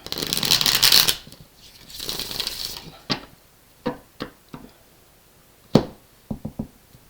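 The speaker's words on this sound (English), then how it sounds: "we've just got one shuffle left to go." Cards riffle in two quick bursts of shuffling, followed by a series of sharp taps and slaps as the deck is squared and cards are laid down.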